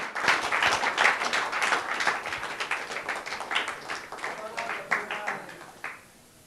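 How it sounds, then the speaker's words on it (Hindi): At a film trailer and song teaser launch event, an audience claps loudly and steadily for several seconds, a thick wash of hands that thins and fades at the end, with voices mixed faintly into the crowd. "जोरदार तालियां बजते रहनी चाहिए"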